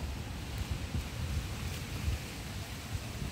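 Strong wind blowing outdoors across a vegetable garden, a steady low rumbling buffet on the microphone with gusty surges throughout, no voices.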